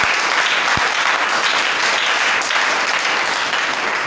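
A church congregation claps loudly and steadily, a dense, continuous wash of many hands close by with no gaps, lasting throughout.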